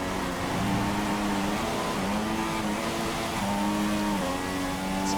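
A Formula One car engine in F1 2016 racing at the Japanese Grand Prix in wet conditions, its steady droning whine rising and dipping in pitch as the rear slides, loud and continuous throughout.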